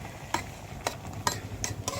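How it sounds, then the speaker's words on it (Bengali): Fish pieces being set into hot oil in a pan for a village-style Malabar spinach dish, a soft frying hiss broken by several sharp pops and crackles. "এই যে আমি মাছগুলো বসাই দিচ্ছি"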